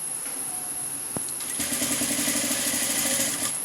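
A domestic sewing machine runs a seam along a fabric edge for a maxi dress, a short whir and clunk first, then a steady rapid stitching rattle carrying to the end, close and fairly loud.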